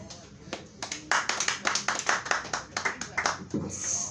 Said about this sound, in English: I was gonna wait for the claps to die down